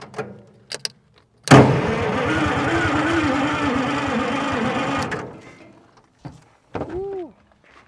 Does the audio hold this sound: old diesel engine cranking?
yes